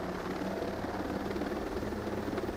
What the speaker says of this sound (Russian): Ни хрена себе вертолет.